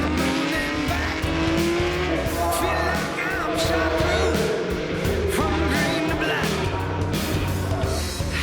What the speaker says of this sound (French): La deuxième position est pour cette Ferrari 250 GT Berlinetta.